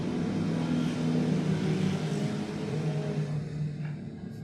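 A gang of Vespa scooters passes a house in Spain, heard as a steady engine drone and rumble that is moderately loud throughout and fades slightly toward the end, with no talk.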